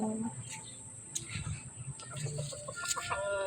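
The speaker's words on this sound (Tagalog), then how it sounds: "Ito, may manok, pang sabong." Soft clucking from a fighting gamecock nearby, with scattered chirps and faint outdoor background noise, intermittent and low.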